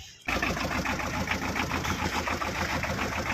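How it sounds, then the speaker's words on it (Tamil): A 2018 Tata Ace mini truck's engine catches after a short silence and settles into a steady, rattling diesel idle that carries on close and loud to the end, with a voice briefly audible. "வாங்க வண்டியை ஸ்டார்ட் பண்ணி பார்ப்போம்."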